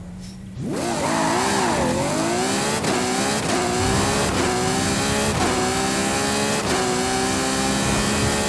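Volkswagen Golf GTI engine in Forza Horizon 5 revs hard after a short quiet start, then holds a loud, steady drone, with several quick gear-change dips breaking the climb.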